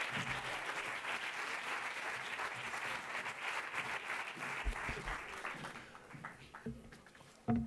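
Audience at a film festival closing gala and award ceremony applauding a director collecting a prize, sustained dense clapping that fades toward the end.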